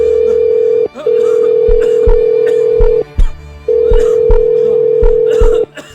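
A telephone sounds a steady electronic tone in long bursts with short breaks, loud and close, while people talk and clatter faintly underneath.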